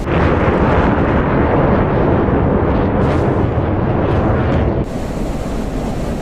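Loud, continuous rumbling roar of cluster bombs dropped by F-16s exploding in a war video game, a dense unbroken barrage that drops slightly in level near the end.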